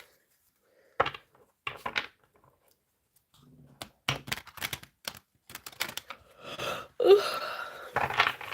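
Tarot cards are shuffled by hand in several short, crisp bursts of riffling and flicking, separated by pauses, growing busier and denser toward the end.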